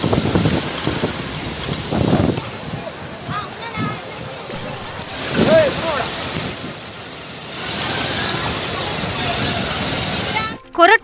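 Rainwater runs like a river across a flooded Perambakkam road in Chennai, a steady rushing wash with splashes and wind buffeting the microphone, under a news reporter's narration.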